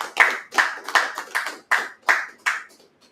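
Seven sharp claps in a slow, steady rhythm, each one crisp and close, with short decays between them; sounds like one or two people clapping rather than a full audience.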